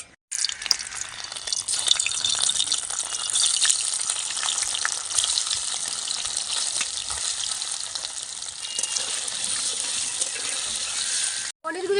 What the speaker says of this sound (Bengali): পনিরগুলি হালকা করে ভেজে নিলাম